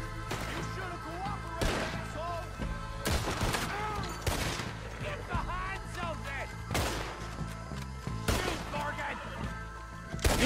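Repeated volleys of gunfire ring out in a Western video game shootout, with loud bursts of shots and crashes spaced a second or two apart while players talk over the action.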